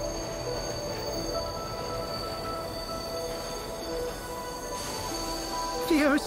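A train pulling into a station in the video game Bright Paw, with steady rumbling rail noise and tonal hums, then a squeal of wheels or brakes at the end.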